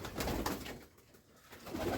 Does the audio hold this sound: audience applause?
no